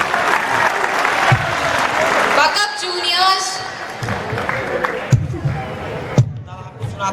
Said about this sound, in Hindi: थोड़ा ताली बजाइए, जागिए थोड़ा सा।